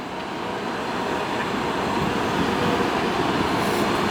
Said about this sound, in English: Never thought I'd be that much excited over a freight.